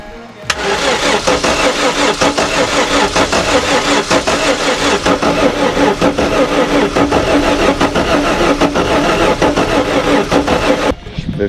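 A car's engine turns over on its first start attempt after sitting unused for 13 years, following spark plug and ignition work; a loud, steady, sustained cranking churn runs for about ten seconds, then stops abruptly.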